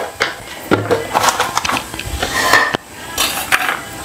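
Ven pongal being stirred in a metal bowl with a spoon, clinking scrapes and knocks of utensil against vessel, close and fairly loud in short irregular strokes.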